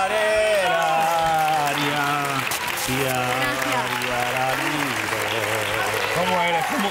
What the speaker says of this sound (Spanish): Un aplauso para los padrinos del programa, señoras y señores.